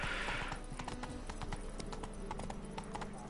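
Horse Roach's hooves clip-clop in a quick galloping rhythm in The Witcher 3, steady and close, with a brief whinny-like burst at the start.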